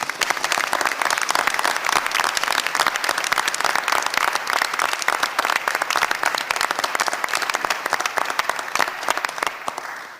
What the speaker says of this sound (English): Let's give our Chancellor and his staff a round of applause